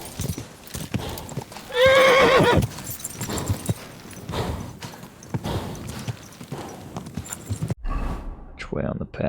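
Horse hooves clip-clop steadily in the medieval open world of Kingdom Come: Deliverance 2, joined by a loud, close neigh near the start, with a voice talking over the riding.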